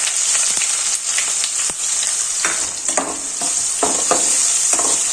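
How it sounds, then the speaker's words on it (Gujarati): Chopped onion sautés in hot oil in a pan alongside mustard seeds, cumin, white sesame and asafoetida, giving a steady close sizzle broken by repeated scraping stirs, with no voices. "સૌપ્રથમ આપણે ડુંગળી સાતળી લેશું."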